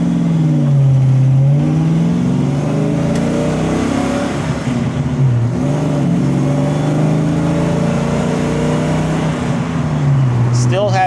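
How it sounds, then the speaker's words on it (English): A car with a newly installed exhaust gives a steady, deep low rumble that rises and falls with the throttle, heard close from inside the cabin, with talk over it. "Still has that good rumble, but it is a lot quieter"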